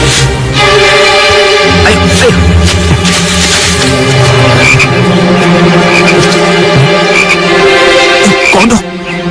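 A frog croaks loudly and repeatedly in a steady, close run of calls that fills the whole stretch and ends abruptly.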